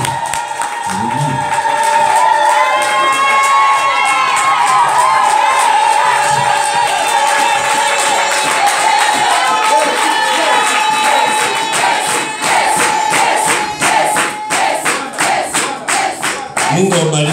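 A Pentecostal church congregation in Shinyanga, Tanzania cheers and claps for Jesus, a dense crowd roar with shouts and whistles building loudly, then breaking into rhythmic clapping near the end.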